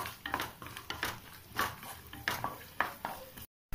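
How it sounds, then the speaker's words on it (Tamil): Chopped coconut pieces roasting in a pan for payasam, heard as a quiet run of spoon scrapes and taps against the metal, roughly evenly spaced, over a faint low sizzle. "தேங்காயோட கலர் வந்து நல்லா சேஞ்ச் ஆகிற வரைக்கும், நல்லா செவர்க்கிறது வரைக்கும் நம்ம இதை வறுத்துக்கலாம்"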